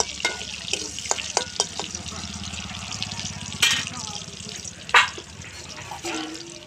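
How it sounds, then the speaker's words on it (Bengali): Onions frying in a pan over a wood-fired stove, a steady sizzle with scattered clinks and scraping stirs, and a couple of louder knocks rising above it. "পেঁয়াজটা একটু লাল করে ভাজছি"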